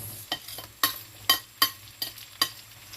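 A spoon strikes a pan in sharp, irregular clacks, about six knocks, as sliced onions sizzle softly underneath while being stirred for sopas.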